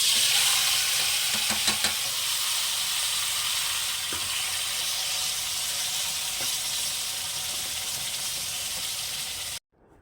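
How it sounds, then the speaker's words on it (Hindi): Marinated chicken frying in hot ghee gives a loud, steady sizzle and hiss close by, with a few soft stirring knocks, before cutting off abruptly at the end. "तो ये मैरिनेटेड चिकन मैं डाल दूंगी।"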